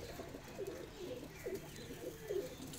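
A white-eyed Teddy breed pigeon coos in repeated soft, low throaty phrases about every second, fairly quiet against a faint background hiss.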